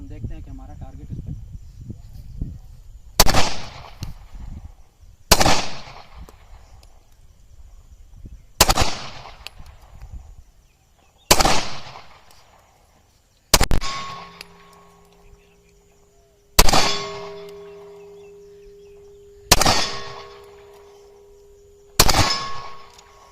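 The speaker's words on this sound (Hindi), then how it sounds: "तो मैंने ये चंद राउंड इसमें अभी जोल के 9 मिलीमीटर के लोड किए हैं, पहली दफ़ा फायर कर रहा हूँ।" A Glock pistol firing 9mm rounds at a target about 15 yards away, eight sharp, loud shots spaced a few seconds apart, each with a ringing decay, outdoors with no talking between them.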